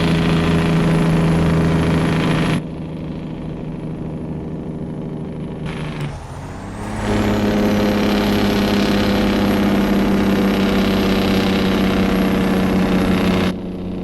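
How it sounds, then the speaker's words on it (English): Freightliner Argosy truck with a Detroit engine in American Truck Simulator: loud droning engine that drops away, then a harsh rising engine-brake roar returns and holds steady, close and continuous without talk. "That is probably one of the greatest sounding engine brakes I have ever done in a mod."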